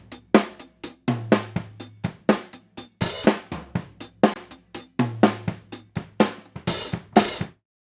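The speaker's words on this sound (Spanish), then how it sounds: "el track del hi-hat suena así" Hi-hat microphone track from a drum kit in a loop, steady hi-hat ticks with loud snare cracks and booming kick drum bleeding through in a regular rock rhythm.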